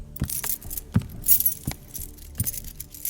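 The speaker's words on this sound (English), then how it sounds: "make the sound of like jingling keys" Keys jangle close by in several bright bursts with short pauses between them, over a low background rumble.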